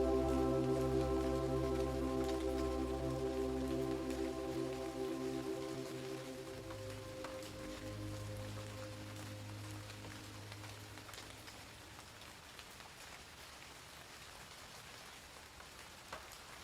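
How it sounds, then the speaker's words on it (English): Gentle rain falls steadily in a soft, even hiss, with a sustained low musical drone underneath that fades after the first few seconds. "The first thing Lily hears when she opens her eyes is the sound of gentle rain"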